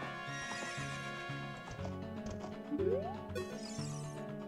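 Horse neighing in Zelda: Ocarina of Time, a single close whinny with a rising squeal near the middle, heard over looping game music with soft hoof clip-clops.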